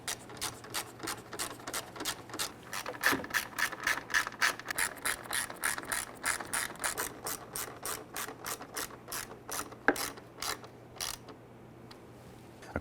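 A hand ratchet tightens harmonic balancer bolts on a 1999-2004 Jeep Grand Cherokee with the 4.7L V8. Rapid, close ratcheting clicks run steadily for about eleven seconds, then stop.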